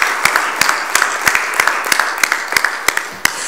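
Scattered audience clapping at a finance conference, a modest round of distinct, fairly close claps in an irregular rhythm that carries steadily on.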